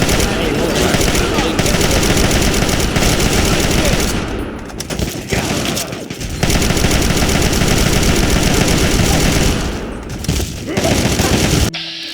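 Heavy sustained automatic gunfire from the video game Fallout 3, loud and continuous, with brief pauses between long bursts.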